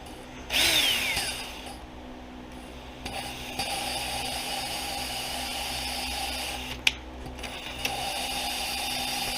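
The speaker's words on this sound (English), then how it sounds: "Put the drill in reverse for a bit." Power drill spinning a valve on a 1993-2009 Honda 300ex engine during valve lapping, starting with a brief high whine and then a steady, moderate grinding whir that runs continuously at close range with no talk.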